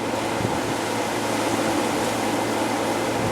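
A constant air-conditioning hum with a broad hiss of moving air, steady and unchanging, no voices present, indoors during a hurricane.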